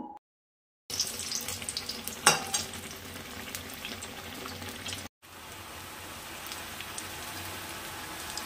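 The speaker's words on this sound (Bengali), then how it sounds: "গরম গরম বেগুনি ভাজছি এখন" Battered eggplant fritters frying in hot oil as a dense, continuous bubbling sizzle close by, with a sharp utensil clatter early on and a short drop-out before the frying carries on evenly.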